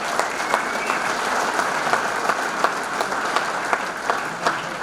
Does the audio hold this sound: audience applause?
yes